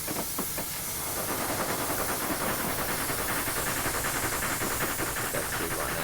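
Steam hisses loudly and continuously as it is released from a locomotive in a train simulator game, a near, steady roar with a few faint rhythmic chuffs at the start.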